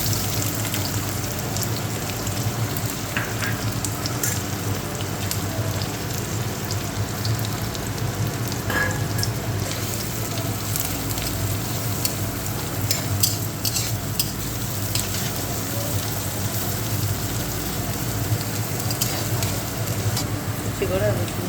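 Chopped onions frying in oil in a pan, a dense, continuous crackling sizzle like heavy rain that holds evenly loud throughout, close by and with no talking.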